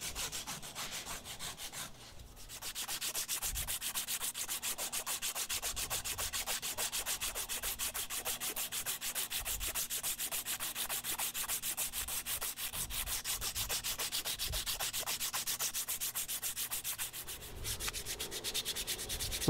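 Hand sanding a micarta knife handle after Dremel shaping: a steady, fast back-and-forth rubbing of abrasive on the handle, continuous and fairly close.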